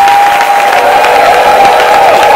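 A crowd at a French-language prayer gathering applauds and cheers in a loud, continuous roar, with a held musical tone running beneath it.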